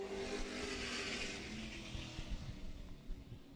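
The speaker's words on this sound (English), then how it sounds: "The engines roar to life into turns 1 and 2 off the apex." Race car engines roar steadily at a dirt oval raceway as the field accelerates into the turns, a broad continuous mechanical drone heard from a distance with no talk.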